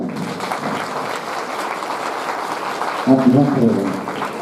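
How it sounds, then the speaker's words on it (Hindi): Loud applause from a large crowd at a felicitation ceremony, continuous and dense, with a voice briefly breaking through near the end. "जोरदार तालियां"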